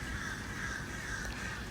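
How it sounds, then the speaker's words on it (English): Crows caw in the background, harsh calls carrying over a steady outdoor hiss. "So you may hear in the background the crows crowing."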